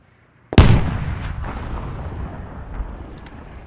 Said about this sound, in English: And we've got the tank battle over here.